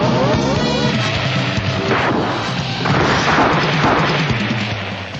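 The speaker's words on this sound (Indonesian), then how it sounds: "Sebuah laboratorium tiba-tiba meledak." A laboratory explosion in a dramatized action scene: a dense, sustained roar of blasts and crashing debris, loud and continuous with layered booming impacts throughout.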